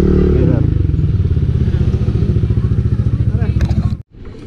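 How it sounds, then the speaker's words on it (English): A motorcycle is being parked. Its engine idles close and loud with a steady, throbbing pulse, then cuts off abruptly near the end, leaving a brief clatter. "Paparada ko muna dito mga tid, yung motor ko ay la Sir Sam"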